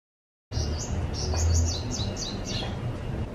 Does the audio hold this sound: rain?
no